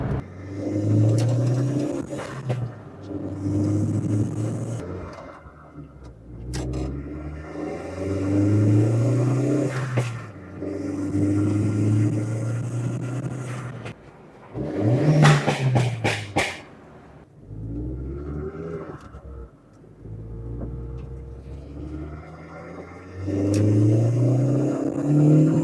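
A Volkswagen GTI, with a recently crashed CV axle, drives on a road trip, its engine repeatedly revving up through gears and easing off, rising and falling pitch heard from inside the car.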